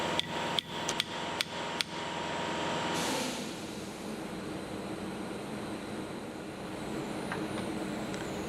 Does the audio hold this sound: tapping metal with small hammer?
yes